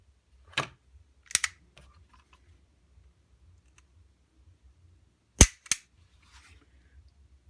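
A SIG Sauer pistol fitted with a spring tuning kit has its trigger pulled against a gauge. Sharp, close clicks come in two pairs, one early and one later, with near silence between them.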